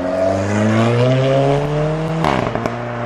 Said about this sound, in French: Alfa Romeo 4C Spider.